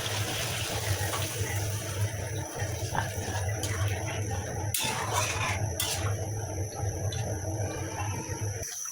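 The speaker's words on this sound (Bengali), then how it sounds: "এখন ঝোলের জন্য পানি দিয়ে দেবো" Water poured into a pot of fish curry with potatoes and tomatoes, a steady close gush and splash lasting several seconds amid faint kitchen clatter.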